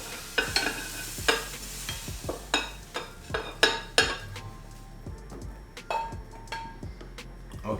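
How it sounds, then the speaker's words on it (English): Cooked broccoli is lifted out of a hot pan with a utensil, giving repeated close scrapes, clinks and knocks against the pan over a soft sizzle, with no one speaking. "Let's take out the broccoli out of the pan, because we're gonna put the tempeh inside."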